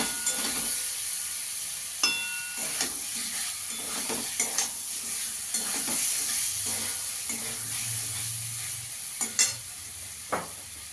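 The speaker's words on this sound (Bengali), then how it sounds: "এবার আলুগুলো দিয়ে দেবো। আলুগুলোর সঙ্গে ভালো করে মশলাগুলো মিশিয়ে নেব।" Potatoes stirred into spiced oil in a hot pan for a Mughlai paratha potato curry, with a steady sizzle and intermittent scraping and clanking of a spoon against the pan.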